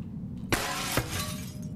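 Glass shattering in the VR game Boneworks: two sharp, loud smashes about half a second apart, followed by a bright crackling spray of falling shards.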